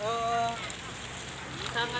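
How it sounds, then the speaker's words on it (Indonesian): Light drizzle falls by a clear river near a bridge at Lubuk Bangku, a steady soft hiss of rain running throughout, with a voice speaking briefly at the start and again near the end. "bertemankan hujan gerimis"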